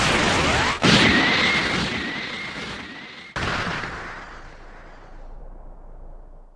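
In the Dragon Ball Sparkling Zero video game, a Special Beam Cannon attack fires with a loud booming blast and a thin whistling beam. A second explosive burst follows, then the roar fades away into a long decaying rumble.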